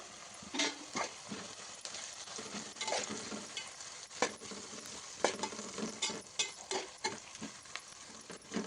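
Ivy gourd tossed with chili powder and salt in a pan, a quiet stirring scrape with soft sizzling and intermittent spoon taps against the pan, no voices.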